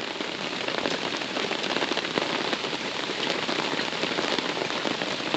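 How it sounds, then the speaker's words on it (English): Heavy tropical downpour at a river eco lodge, a dense, steady hiss of rain hammering on surfaces nearby, constant and loud with no speech. "It has been downpouring."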